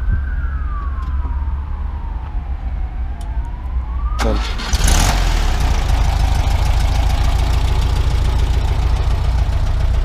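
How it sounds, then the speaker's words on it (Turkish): A Volkswagen Beetle fitted with a 1.3 carburetor cranks over with a brief burst of noise and settles into a steady, rumbling idle, with a thin whining tone sweeping in the background beforehand. "marş alalım."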